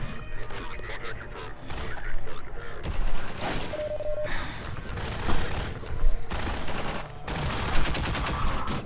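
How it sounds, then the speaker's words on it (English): Heavy blasts from a Strider on a rooftop battle in Half-Life 2 crash in among steady gunfire, several loud booming impacts landing close at irregular intervals over a continuous fusillade. "I just got a bit of a blast from a Strider there"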